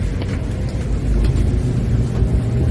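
A car driving on after being shifted into second gear, heard from inside as a loud, steady engine hum and road rumble that swells slightly midway, with no talk over it.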